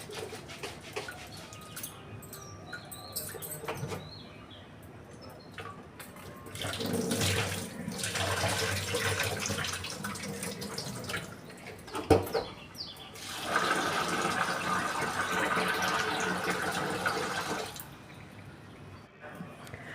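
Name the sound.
washing lentils by hand in water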